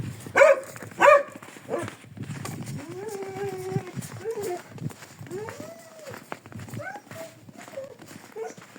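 A dog on a village farmstead barks twice sharply and loudly at the start, and someone talks through the rest of the clip.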